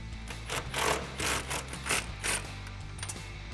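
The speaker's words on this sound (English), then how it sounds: "we're going to grab a 21mm socket on my impact gun, and we're going to gun the nut off from the outside" Impact gun with a 21mm socket hammers a nut off the front suspension of a 2014-2018 Chevrolet Silverado or GMC Sierra: several close, loud, rattling mechanical bursts in a quick repeating rhythm.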